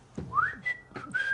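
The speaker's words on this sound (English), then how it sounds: "So you were whistling, you were whistling after you had your go as well?" A person whistling with no tune: a few short, thin, wavering notes sliding upward, close and clear, with no talk.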